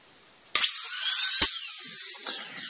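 A Gnatus dental turbine handpiece, driven from a compressor by a pedal, jumps to a sharp, high-pitched whine and holds it steadily, close and loud, with a brief surge in the middle.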